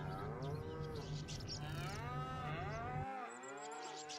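Dairy cattle in Farming Simulator 25 moo repeatedly in long, overlapping bellows, fairly near and steady over a low constant hum, several animals calling one after another.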